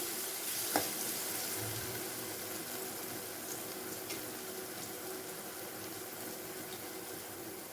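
Oil frying in a pan while a filling for Kerala elai adai is sautéed, a steady soft hiss and sizzle that continues evenly throughout with a faint clink near the start and no talking.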